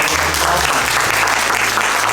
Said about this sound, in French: peut-être l'applaudir M. Herlin